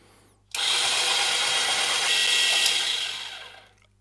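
A loud, whirring electric grinder grinding whole cloves runs for about three seconds after a brief pause, then spins down and fades out.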